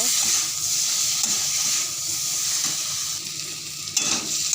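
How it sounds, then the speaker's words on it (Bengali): Potatoes with turmeric being stir-fried in a pan for an aloo potol curry, a steady close hiss of frying with soft scraping stirs and a sharper clatter near the end, no talking. "দিয়ে এটা ভালো করে নাড়বো কষিয়ে নেব"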